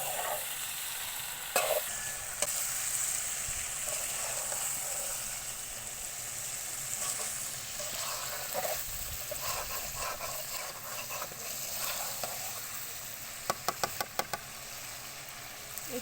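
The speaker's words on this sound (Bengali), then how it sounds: "এই মাংসটায় আমি এখন পানি দিব না, এভাবে যতক্ষণ পারবো সুন্দর করে ভেজে নিব।" Chicken meat fries in a pan without water, giving a loud, continuous sizzle with crackles and a burst of quick spatula taps near the end.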